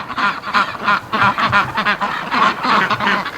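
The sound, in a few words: ducks rushing home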